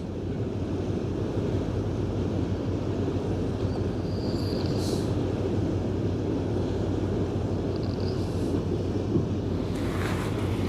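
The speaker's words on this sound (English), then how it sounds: "I can even hear the waves from the bow audibly." Bow waves from a passing ship on the Westerschelde wash in a continuous, even roar with wind buffeting the microphone, a few faint higher tones drifting over the top and no voices.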